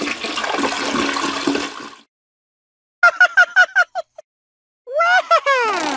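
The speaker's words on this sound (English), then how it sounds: "Next, it's time to flush." A toilet flushes in a children's potty-training segment with Elmo: a loud, rushing whoosh of water for about two seconds, then silence, followed by a run of short squeaky chirping bursts.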